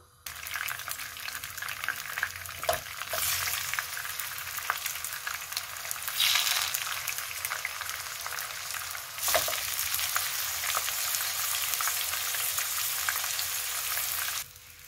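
Chicken pieces for Kashmiri chicken fry in mustard oil in a frying pan, making a steady, close, dense sizzle with occasional stirring scrapes throughout and no talking.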